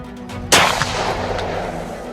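A single loud gunshot rings out during a wild boar hunt in the hills of Brandenburg, a sharp crack followed by a long rolling echo fading over the following seconds.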